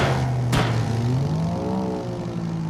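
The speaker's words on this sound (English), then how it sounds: "It does sound like your car is a motorcycle." A car engine in Drive Beyond Horizons with a buzzy, motorcycle-like note, revving steadily with a rising and falling pitch after a brief sharp knock, moderately loud and close.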